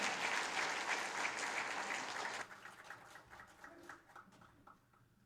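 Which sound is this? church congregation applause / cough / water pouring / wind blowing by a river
church congregation applause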